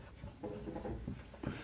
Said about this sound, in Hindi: ब्लैक वाले से लिख देता हूँ, ब्लैक मार्कर ये रहा।